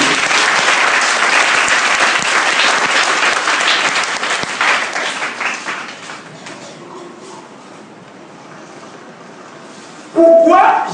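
A church congregation claps loudly together, the applause dense at first and then thinning out and fading over several seconds; near the end a brief burst of voices breaks in.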